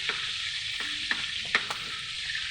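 Pork sizzles steadily in a hot pan, a dense, constant frying hiss broken by a few soft pops and scrapes of stirring, heard close with no talking.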